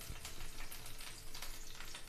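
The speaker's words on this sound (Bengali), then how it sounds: "একটু জল ছিল বোধ হয় ওই জন্য ছেটকাচ্ছি" Hot oil heating in a pan for frying potatoes crackles and spatters where a little leftover water hits it. The sizzling is steady and close, and nobody speaks.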